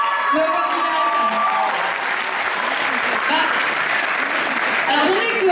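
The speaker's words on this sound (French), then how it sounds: "on les applaudit encore une dernière fois, s'il vous plaît" Sustained applause from a theatre audience, steady and loud from start to finish, with a voice speaking over the clapping.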